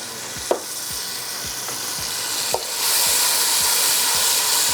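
Dal and mutton bhuna in a pot, a steady frying sizzle and hiss with rhythmic stirring scrapes repeating about every half second, close and continuous.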